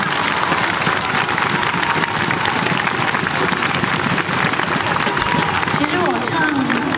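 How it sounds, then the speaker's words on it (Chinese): A concert audience at a show gives loud, dense, continuous applause for the musicians, with crowd noise and some voices mixed in. "我们给他们掌声"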